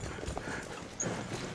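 Horse hooves clip-clop across the dirt of a round yard as the horse is asked to halt, a few soft, close thuds on a steady low background.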